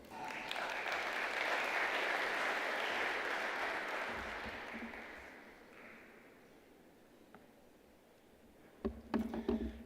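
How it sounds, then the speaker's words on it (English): Broad, steady applause from a crowd at a ministerial summit as a speaker is invited to the podium, loud at first and then gradually fading away, with a few faint scattered sounds near the end. "May we invite him to the podium with a round of applause."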